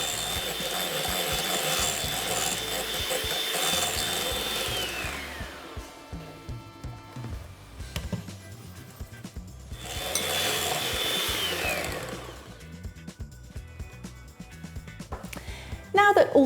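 Brown sugar meringue whipped to stiff peaks with an electric mixer, a steady whirring motor hum that rises and falls in two long bursts, with a person talking over and between them.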